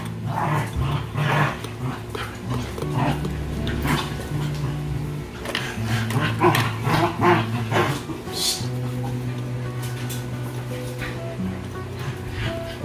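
Pet dogs bark, growl and whimper in a noisy, steady run of yips and low growls that lasts throughout, with sustained tonal whines weaving through.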